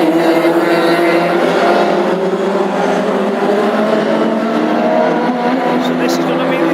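Classic hot rod race cars howl around the Ipswich oval during a heat, a loud, sustained engine roar with a steady pitch from several cars at once, with no talk.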